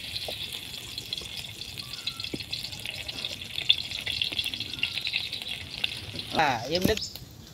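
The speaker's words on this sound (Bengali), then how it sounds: "পেঁয়াজগুলো ভাজা হয়ে গেছে" Onions frying in oil at the start of a small-fish curry with tomatoes make a steady sizzling hiss, with a louder burst of spattering and stirring near the end.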